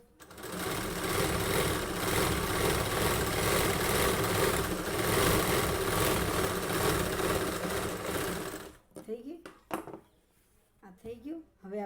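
A sewing machine stitches a salwar, its fast, steady motor whir running loud and unbroken for about nine seconds before it stops. Brief, quiet talk follows.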